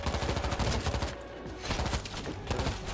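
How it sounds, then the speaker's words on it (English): Mortar and gunfire in the zombie shooter World War Z, dense rapid bursts of shots and thuds rattling continuously at high level, with a brief lull in the middle. "Mortars, ready to fire."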